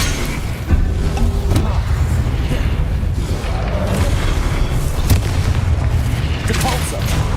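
Explosive Confringo spell bursts in Hogwarts Legacy, heavy booming blasts layered over dense, continuous game combat noise with a voice calling out spells throughout.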